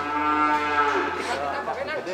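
Cattle lowing at an Indonesian livestock market, one loud drawn-out moo close by with rising and falling tones, set against a steady background hum and no talk.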